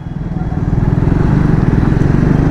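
Triumph Speed 400 motorcycle engine idling after a restart, a loud, close, rapid low thumping pulse that steadies and holds, with no talking over it.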